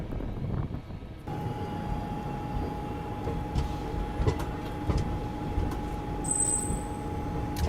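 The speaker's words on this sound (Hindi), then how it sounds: "ये अपनी गतिमान एक्सप्रेस निकली।" The Gatimaan Express train rushes past with a steady roar of wheels and rail noise, a sustained hum and occasional clanks, and a brief high squeal near the end.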